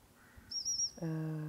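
A voice imitates a falling bird: a high whistled tone, then a sliding, falling harmonic call, loud and close, with no other sound around it.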